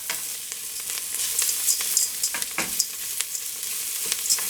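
Onion frying in a pan for pantry rice, a bright steady sizzle broken by several sharp scraping stir strokes and spatula knocks, with no talking.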